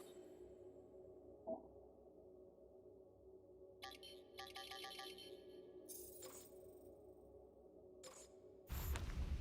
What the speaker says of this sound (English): Lots of reverb on the UI.